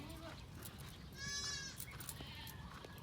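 Young goats on a farm, recently vaccinated, bleat for their mothers; one wavering bleat rises clearly over a noisy outdoor background, with fainter animal sounds around it.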